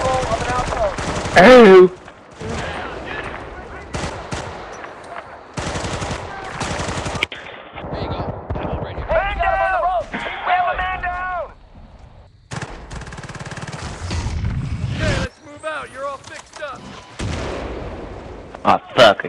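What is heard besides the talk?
machine gun and artillery fire in Battlefield 2 video game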